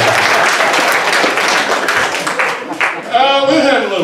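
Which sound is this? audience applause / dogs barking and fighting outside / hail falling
audience applause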